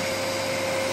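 A Dyson vacuum cleaner running at full power, a close, loud, steady motor whine with a high-pitched tone and airy rush, unbroken throughout the short stretch.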